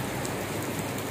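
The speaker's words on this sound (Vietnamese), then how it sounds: "mưa nặng hạt đó," Heavy seasonal rain pours down steadily at a bonsai and ornamental plant nursery, a dense, even hiss of drops with no pauses.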